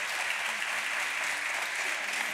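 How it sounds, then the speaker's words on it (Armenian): A studio audience on a television quiz show claps steadily, with dense, even applause at close range throughout and no voices. "Ծափահարություններ։"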